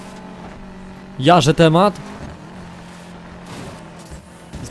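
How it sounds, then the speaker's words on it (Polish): A steady car engine drones through a race in Need For Speed Payback, a low even hum that stays in the background while someone speaks briefly over it. "W sumie, ale głos silnika chyba jest ważniejszy, nie?"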